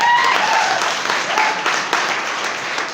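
Loud crowd applause, a dense steady clapping that fills the whole moment, with faint voices mixed in.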